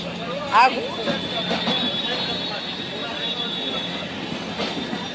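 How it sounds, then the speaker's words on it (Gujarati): A train departing Haridwar station rumbles and clatters steadily along the rails, with a brief louder metallic clank early on and a faint high whine throughout. "5 ને 19 રેલગાડી ઉપડી છે"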